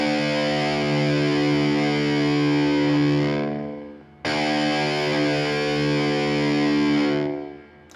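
Distorted electric guitar with its top string tuned down to D, two long sustained ringing notes struck one after another, each fading out, loud and alone without talking.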